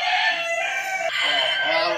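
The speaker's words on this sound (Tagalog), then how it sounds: "may manok pa." Chickens cluck and a rooster crows close by, a steady busy run of bright, loud fowl calls with no pause.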